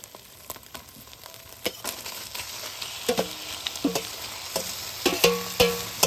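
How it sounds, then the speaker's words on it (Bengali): Drumstick leaf paste and marinated fish fry in a pan, with a steady sizzle under repeated scraping and stirring knocks that grow louder toward the end, with no voices. "সজনা পাতাগুলো একটু ভালো করে ভাজি নিব"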